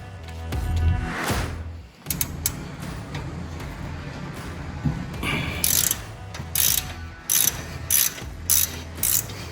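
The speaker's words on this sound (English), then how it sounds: "began loosening the front motor mount bolts using a 3/4 inch" A 3/4 inch socket and ratchet loosens the front motor mount bolts on a Ford Model A, giving close, sharp bursts of ratcheting clicks in short repeated strokes, with a clunk of metal early on.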